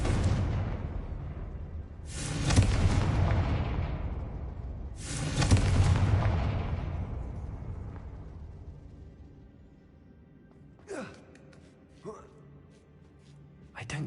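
Two heavy explosive spell blasts from the game Hogwarts Legacy, each a loud booming burst a few seconds apart that rumbles and decays slowly, followed by quieter game sounds and brief voices.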